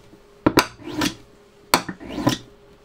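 A new screwdriver is stroked against a magnet, making two clusters of sharp metallic clicks and scraping rubs, each a quick clack followed by a short swish, close and fairly loud.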